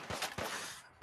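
Gunfire in the video game Fallout 4, a quick run of about three sharp shots within a second, loud and close with no talk.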